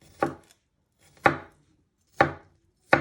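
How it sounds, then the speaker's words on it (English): A knife slices food on a cutting board in four sharp, separate chops spaced about a second apart, close and clear with no talk. "And now you just want to finely slice it."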